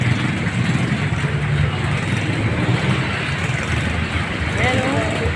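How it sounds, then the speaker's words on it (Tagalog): Road traffic rolls past during heavy rain, a steady wet hiss of tyres and engine rumble with a speaking voice over it. "Traffic po talaga o. Basta na ganitong umuulan ng malakas."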